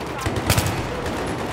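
Gunfire in the video game Battlefield 3: a short burst of loud, sharp shots around the middle, over a dense, noisy game mix, with no talk.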